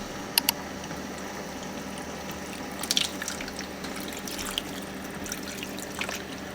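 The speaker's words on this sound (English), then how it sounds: "I'm going to put some water in here too" Water pours from a tap into a cooking pot for boiling chitterlings, a quiet, steady trickle with a few faint clinks and splashes along the way.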